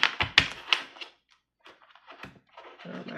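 A quick burst of rapid papery riffling and clicks from cards being shuffled, then a pause and a few softer card flutters, close by.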